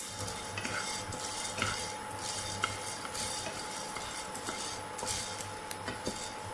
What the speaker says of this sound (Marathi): मी इथं बघा ज्वारी फुलायला सुरुवात झालेली आहे